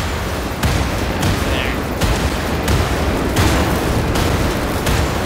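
Grenade explosions and gunfire in the video game Wolfenstein: The New Order, a loud continuous barrage of booms and rapid shots with several sharp blasts close together.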